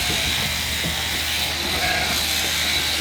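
Sheep at a shearing competition with three shearers on stands, bleating faintly amid a steady loud background of shearing handpieces and crowd hum.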